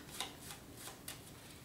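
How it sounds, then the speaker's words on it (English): A deck of playing cards is shuffled during a card trick, giving a few quick, faint riffling bursts close by in an otherwise quiet room. "Give these cards a shuffle."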